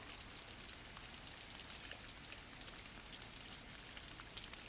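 Steady rain falls in a dense, even patter that continues throughout, soft and fairly distant with no other sounds.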